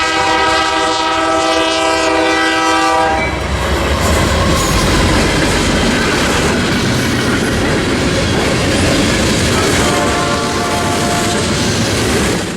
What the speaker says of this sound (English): UP 6760 East passes through town with a North Platte to Bedford Park manifest freight train.